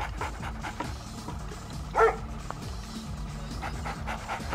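A dog unit in a real-time strategy game gives one short bark-like yelp over a busy, steady bed of game sounds and clicking, with no voice heard.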